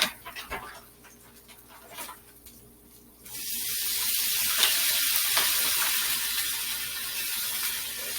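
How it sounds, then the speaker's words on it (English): Bacon strips added to a pan of almost-cooked egg, quiet at first, then a steady, moderately loud sizzle building and holding alone. "once the egg looks almost a little bit cooked, I start to add my bacon"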